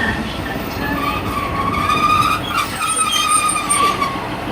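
Train at Nottingham station, with steady rolling rail rumble and a faint wheel squeal through the platform ambience, at a consistent level throughout.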